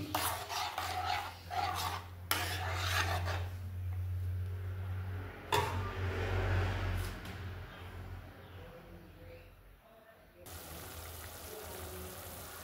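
Pizza sauce with bay leaves is stirred in a pot, giving rasping, scraping strokes of a spoon against the pot alongside a low steady hum, with quieter bubbling after the stirring stops.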